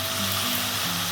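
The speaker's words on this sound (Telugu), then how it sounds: "చికెన్, ఉప్పు అంతా మసాలా అంతా కలిసేటట్టు కలుపుకుందాం." Chicken pieces tossed with salt and masala in a frying pan for Andhra chicken curry give a steady, close sizzle that holds evenly for the whole moment, with no talking.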